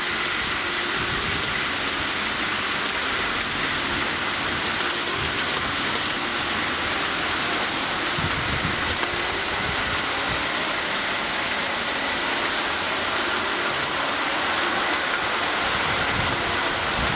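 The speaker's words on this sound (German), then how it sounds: "es hat voll geregnet" Steady, dense rainfall heard from a balcony, a constant broadband hiss of drops on surfaces that stays even and unbroken throughout, with no voices.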